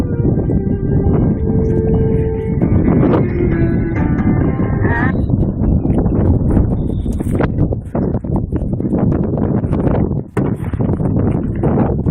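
Strong wind buffets the microphone outdoors near a church bell tower, making loud, continuous low rumbling. A voice speaks early on, and gusty crackles continue throughout.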